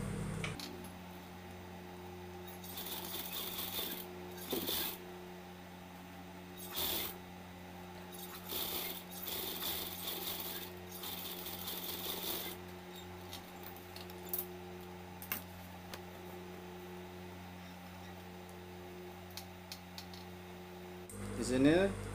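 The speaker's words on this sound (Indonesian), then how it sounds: "Selanjutnya sisi satunya yang belum dijahit tadi diteruskan dijahit." Sewing machine stitching along the unsewn side of a fabric piece, a steady mechanical hum with rattling bursts that start and stop in short runs across the whole stretch, fairly close and moderately loud, no talking.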